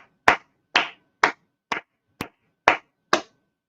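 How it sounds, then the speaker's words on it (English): Seven sharp single claps ring out one after another at a slow, steady pace, close and clear against silence, marking applause for Lady Justice at the close of the Idaho 4 Bryan Kohberger guilty plea hearing. "let's give a round of applause to Lady Justice"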